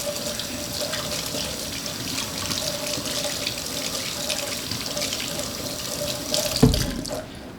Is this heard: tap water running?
yes